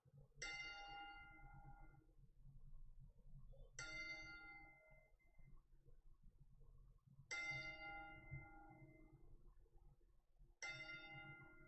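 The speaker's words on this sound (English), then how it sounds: "they're going to do the 10 bell salute now" Ten-bell salute at a WWE Raw wrestling event, January 2019: four single bell strikes at slow, even intervals, each ringing out and decaying, faintly heard over low arena murmur.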